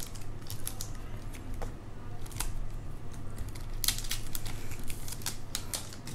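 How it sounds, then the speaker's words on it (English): Scissors snip through the sealed wrapping of a trading card booster box, a run of sharp, close clicks and cuts in an irregular rhythm over a low steady background hum. "I'm gonna use a pair of scissors to cut it open."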